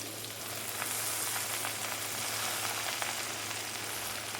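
Gongura leaves sizzling steadily in about three spoons of hot oil, a continuous dense crackle with fine pops, close and moderately loud with no talking.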